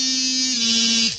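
A Pulsonic electric toothbrush hums steadily up close, a constant buzzing drone that shifts slightly in tone midway and then cuts off abruptly at the end.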